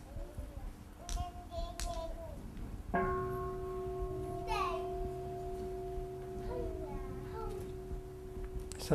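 A meditation bell is struck once to close a pebble meditation, and its clear tone rings on and slowly fades for several seconds after softer earlier sounds.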